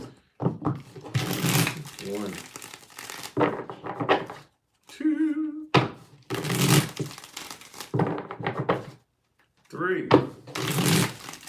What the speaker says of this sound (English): Let's get 6 shuffles.